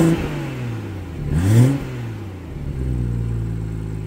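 A 2018 BMW 340i M Sport Touring Shadow Edition, already warm, runs with a low rumbling exhaust burble that swells into a brief blip of revs midway before settling back to a steady, close idle.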